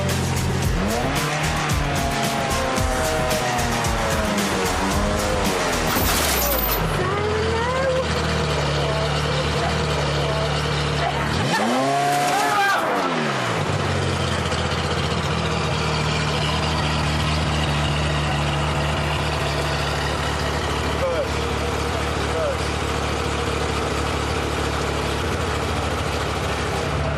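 A car drives a race circuit, its engine note rising and falling through gear changes, tyres squealing at times, with a loud pass-by near the middle and steady engine drone after, while people talk over it.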